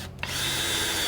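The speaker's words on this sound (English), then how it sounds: "I'll take my screwdriver." A power screwdriver drives a screw into wood while mounting a ceiling fan, a steady high-pitched motor whine running continuously after a brief start, close and fairly loud, with no talking.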